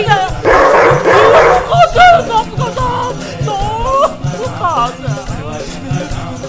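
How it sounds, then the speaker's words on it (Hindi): A dog barks and yelps repeatedly in an excited, agitated burst during a tense Hindi film scene at home, with people shouting and talking over the close, loud barking. "किसी को कुत्ते की आवाज सुनी आ रही है?"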